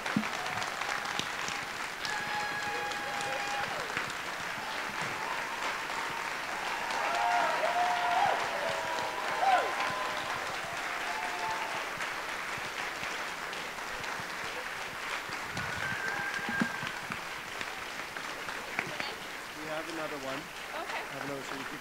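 A lecture audience claps at the close of a speaker's talk on racism in farming and food, sustained clapping from a large room under intermittent speech and murmurs, swelling briefly mid-way before fading.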